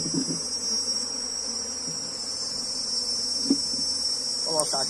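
Dense, steady buzz of many honeybees (Apis) swarming along the sides of a hive box, loud and continuous throughout with a few soft knocks and handling sounds near the end.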